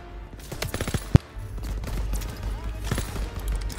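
Call of Duty WW2 gameplay with rapid bursts of gunfire and one sharp, loud shot near the start, mixed with a voice talking over the action.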